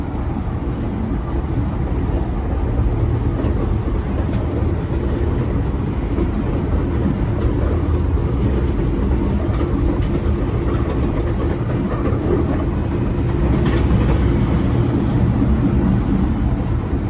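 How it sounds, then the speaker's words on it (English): A Chicago Transit Authority rapid transit train rumbles steadily past, heard from the rear of a private railcar on a moving Amtrak train, with a loud continuous roar and faint rail clatter throughout, no voices. "And there goes the CTA train,"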